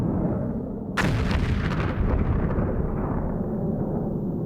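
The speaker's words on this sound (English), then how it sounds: "eventually the bombers went in and the tanks and artillery swept north through the zone to Beirut" Artillery fire in archive news footage of Lebanon: a heavy boom hits suddenly after a quiet start and rolls on as a loud, dense rumble with scattered crackling.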